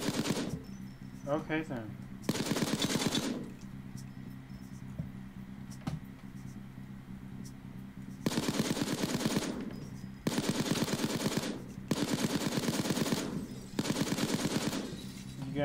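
Gunfire in the video game Payday 2 comes as several sustained automatic bursts, each lasting about a second, loud and close, with a brief spoken remark early on.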